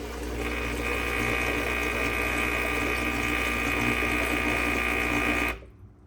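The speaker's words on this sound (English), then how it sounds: "listen to the sound of it at the end of the cycle and watch out for the Pyrex vibrating" Senseo coffee maker pumping steadily with a dense buzzing hum as its water reservoir runs nearly empty, loud and unbroken for over five seconds before cutting off abruptly.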